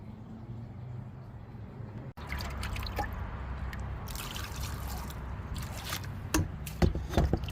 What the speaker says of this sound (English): Okay, I pour a lot of water on here